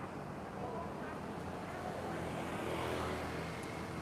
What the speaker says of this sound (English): The main road is just kind of a crazy cluster of cars.